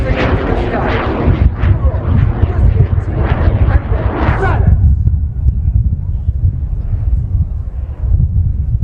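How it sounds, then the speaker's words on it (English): An Italian Air Force Frecce Tricolori MB339 jet performs a solo display at an air show. A loud, roaring rumble rises in waves and then drops off into a fading distant drone. Gusts of wind buffet the microphone and an announcer talks over it. "MB339 of Frecce Tricolori, one of the few jets able to perform the next maneuver by the solo team."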